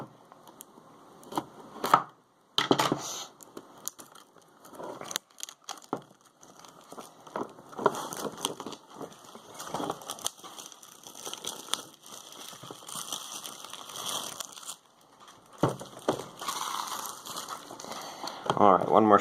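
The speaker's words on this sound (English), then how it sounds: "let me cut this plastic off and we'll see what it looks like on the inside." Plastic wrap being cut and torn off a Nendoroid figure box, with irregular crinkling, crackling and rustling bursts at close range, interrupted by short silences; a person talks at times.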